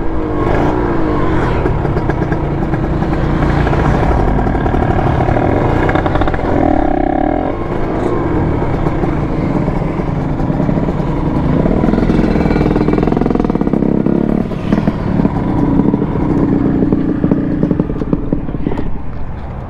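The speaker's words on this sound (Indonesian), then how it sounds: "Enteng banget ini motor ya." A Kawasaki Ninja RR two-stroke motorcycle engine runs loud and close throughout, idling with repeated revs and rising throttle bursts; people talk over it.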